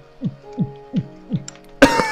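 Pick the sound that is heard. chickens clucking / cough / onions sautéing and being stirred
cough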